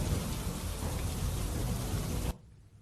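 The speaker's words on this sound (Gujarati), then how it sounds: "લાઠીદળ ગામે વરસાદ શરૂ થયો છે" Heavy rain pours in a dense, steady hiss with a deep rumble underneath, then drops off sharply near the end, in Lathidad village, Botad, Gujarat, after intense heat.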